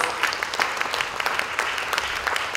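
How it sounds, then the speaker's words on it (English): An audience at a music competition applauds a judge being introduced, dense, loud clapping from many hands that continues steadily for the whole stretch. "A round of applause."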